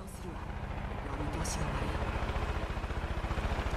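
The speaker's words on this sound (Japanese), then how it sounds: "待ってヘリ来たよ" Helicopter approaching in the video game Far Cry 5: a steady rotor chop with low pulsing thrum grows louder throughout, under continuous talk and game voices.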